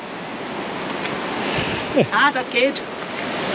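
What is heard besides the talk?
Trafalgar Falls waterfall in Dominica rainforest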